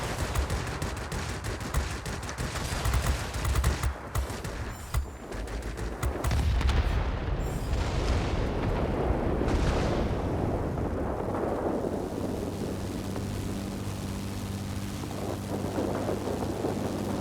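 Anti-aircraft guns fire in a video game, a dense, loud barrage of booming shots and rumbling blasts that rolls on continuously, thinning toward the end with a steady low hum underneath.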